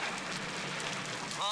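Steady rain falls outdoors, a dense even patter filling the whole stretch at moderate level, with a brief tonal sound near the end.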